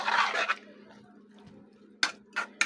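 Taro stolons with shrimp and a little water being stirred in a pan: a brief scraping swirl at the start, a quiet lull with a steady low hum, then three sharp utensil scrapes against the pan near the end.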